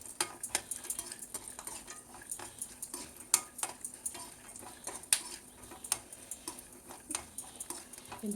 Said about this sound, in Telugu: నేను అదే నేతిలో వేపుతున్నాను.